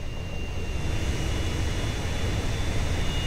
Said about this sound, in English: Plane! Quick! It's starting up!